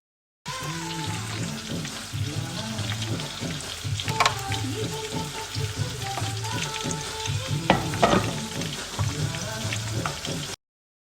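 Tomatoes fry with onions in a hot pan, giving a continuous close sizzle broken by repeated scraping and clattering stirs.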